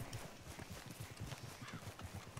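Horse hooves clip-clop in a quick, steady rhythm as a rider trots past in the video game Red Dead Redemption 2, quiet and somewhat distant.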